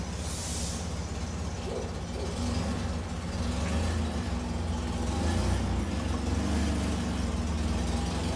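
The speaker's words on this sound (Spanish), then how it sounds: "perdón por el ruido de la camioneta" A pickup truck engine idles nearby with a steady low rumble and a faint hiss, continuous throughout with no speech over it.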